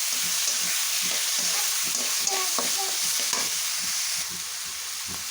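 Mustard paste and salt being stirred in a pan for a Maltese chutney, a steady close sizzle with rhythmic spatula scraping and soft knocks, no talking.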